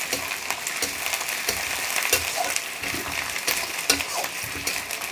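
Peanuts roasting in hot oil in a pan for a samosa filling, a steady close sizzle with scattered crackles and pops throughout and a few stirring scrapes.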